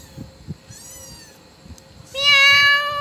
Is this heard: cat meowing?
yes